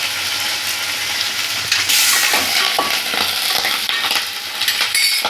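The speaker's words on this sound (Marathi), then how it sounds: "तेल जरा गरम झालं, फ्राय करून घेते हा वांगी।" Brinjal pieces fry in hot oil in a home kitchen, giving a loud, steady close sizzle with bursts of crackle and occasional scraping and stirring clinks.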